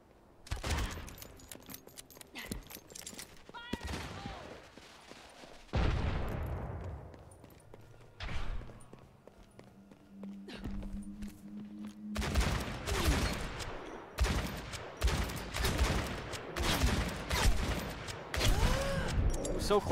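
Gunfire in an Overwatch esports match, sharp bursts of shots arriving in dense clusters, with sparse shots and quieter gaps early, then rapid repeated volleys in the second half.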